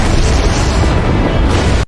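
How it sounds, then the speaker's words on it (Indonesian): A massive magic explosion from an anime battle, the Netherlord's overwhelming blast levelling a battlefield: a dense, loud sustained rumble that holds steady for about two seconds, then cuts off abruptly. "Netherlord ngumpulin mana gila-gilaan dan ngelepasin ledakan masif"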